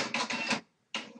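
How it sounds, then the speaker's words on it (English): A printer runs in short mechanical bursts, a longer buzzing stretch, a brief pause, then another burst starting up, moderately loud and close with no talking over it. "Pardon the printer noises."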